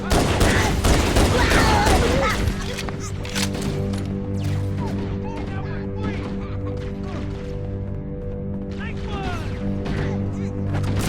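Gunfire in the video game Halo: a dense burst of loud shots up front, then scattered pops and impacts over a sustained droning score, with voices heard amid the action.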